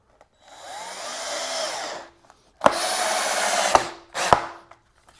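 A power drill drives a small screw into wood for a homemade turntable, in three bursts of whirring motor: a long run, a second steady run and a short final spin, separated by brief silences.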